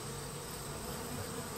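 Honey bees washboarding at the hive give off a faint, steady buzzing drone, close but quiet and unbroken for a short moment.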